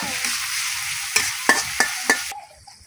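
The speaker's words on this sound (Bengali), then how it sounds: "এখন আদা আর রসুনটা একটু বাকি নিলাম, কাঁচা গন্ধ লাগে না চলে যায়।" Ginger and garlic fry in a pan with a constant close sizzle, marked by several sharp scraping clinks of a spoon against the pan before the sizzle suddenly drops away.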